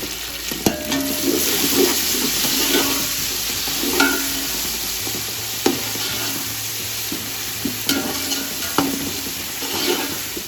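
Tomatoes and green chillies fry and sizzle in a pot with browned garlic, a steady close sizzle broken by repeated scraping stirs of a spoon against the pot.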